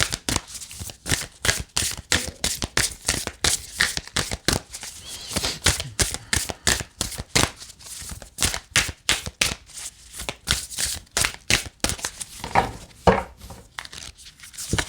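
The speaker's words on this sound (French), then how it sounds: "je vais prendre une carte de l'oracle de Gaïa pour terminer aujourd'hui." Oracle cards being shuffled by hand, a long run of rapid, close, papery riffles and slaps in a steady rhythm, loud and with no talking over it.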